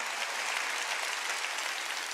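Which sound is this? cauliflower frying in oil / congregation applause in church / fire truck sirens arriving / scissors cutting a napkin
congregation applause in church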